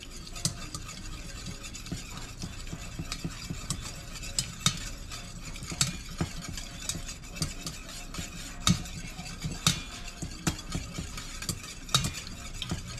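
A whisk works melted unsalted butter in a pot for potato soup, with quick, continuous metallic scraping and clinking against the pan over a faint sizzle.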